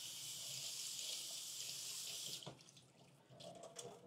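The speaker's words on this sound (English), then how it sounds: "All right, quick little rinse." A kitchen tap runs steadily while food is rinsed under it, then shuts off, leaving faint clinks and handling sounds; quiet overall.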